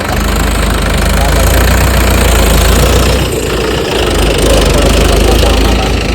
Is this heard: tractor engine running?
yes